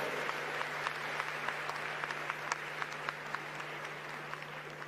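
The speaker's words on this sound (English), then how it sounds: "Let's give them a warmer round of applause." Sustained audience applause in a large hall at the African Climate Summit, a dense, even patter of many hands clapping at a steady level throughout, heard from a distance over a constant low electrical hum.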